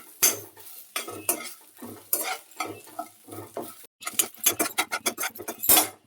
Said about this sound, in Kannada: ಲೋ ಫ್ಲೇಮಲ್ಲಿ ಹುರ್ಕೊಳ್ಬೇಕು, ಇಲ್ಲಾಂದರೆ ಈರುಳ್ಳಿ ಬೆಳ್ಳುಳ್ಳಿ ಚೆನ್ನಾಗಿ ಬೇಯೋದಿಲ್ಲ.